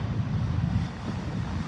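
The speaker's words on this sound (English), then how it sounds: "This one's got a bit of a buzz to it too, sounds like a buzzsaw." Delta Boeing 737-900ER engines buzzing on takeoff, a steady, loud rumbling drone with a raspy buzzsaw edge and no voices over it.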